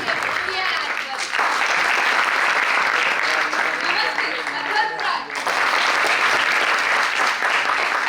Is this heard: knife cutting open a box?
no